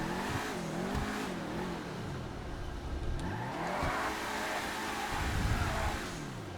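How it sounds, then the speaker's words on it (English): A turbocharged car engine in the FiveM role-play game revs repeatedly after being repaired, rising and falling in several swells, fairly close and alone with no talk. "we gotta hear the turbo"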